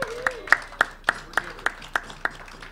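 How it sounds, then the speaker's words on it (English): At an awards show, a lone pair of hands claps in slow, evenly spaced beats, about nine crisp, close claps over a quiet room, with no voices. "that deserves another round of applause"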